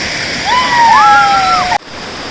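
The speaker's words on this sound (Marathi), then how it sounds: "मस्त धबधब्याखाली मस्त आस्वाद घेतोय" A monsoon waterfall in the Konkan roars as a steady, loud wash of falling water, with a brief high whistling tone gliding over it before the sound cuts off abruptly.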